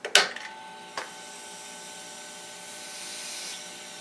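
An airbrush compressor with a slight air leak switched on: a sharp click and brief clunk at the start, then a quiet, even motor hum with a faint tonal whine and soft hiss running on alone.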